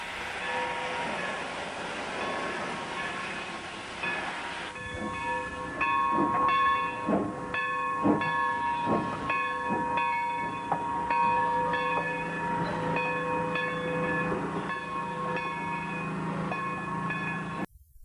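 Box Hill, a steam engine on a railway, rolls past with a steady rumbling chuff and clanking wagons, plus a few sustained whistle-like tones, loud and continuous throughout.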